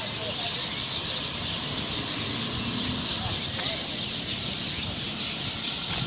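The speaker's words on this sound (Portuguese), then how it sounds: "Tem muitas árvores aqui na nossa cidade, fica os passarinhos aí, ó. Escuta um pouquinho só o cantinho dos bichinhos aí" A dense chorus of birds sings and chatters in the many town trees around the São José do Egito bus station at dusk. The chirping is continuous over a steady background roar of outdoor noise.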